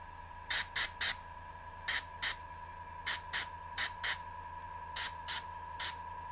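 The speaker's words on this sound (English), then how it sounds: "I'll spray it on my finger." An airbrush sprays shadow glaze paint in about fourteen short, crisp hissing bursts, grouped in twos and threes, close and alone over a steady background hum.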